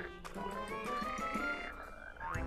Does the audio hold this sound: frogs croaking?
yes